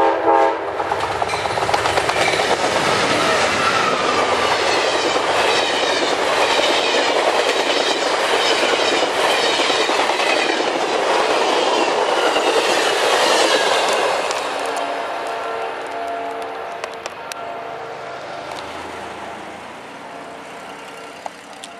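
Amtrak 19, a passenger train, roars past close by on the tracks with a steady clickety-clack and a horn in the mix, then fades as it moves away, with no talking.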